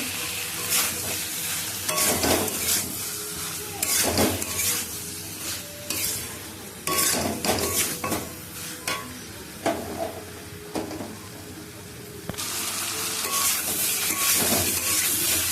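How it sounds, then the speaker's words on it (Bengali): Prawns sauté in a hot pan for a pointed gourd and prawn curry, a close sizzle broken by repeated spatula scrapes and stirring bursts. The frying swells louder toward the end, and no one speaks. "চিংড়িগুলো দিয়ে দেবো, একটু কষিয়ে নেব।"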